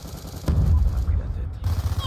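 Gunfire in the video game Call of Duty: Black Ops II, a loud burst of shots heard through a wall during an online match, booming low thuds lasting about a second with a brief lull after.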